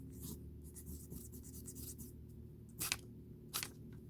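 A fountain pen scratches across soft journal paper in short strokes, faint and close, with a few sharper scrapes near the end over a low steady hum.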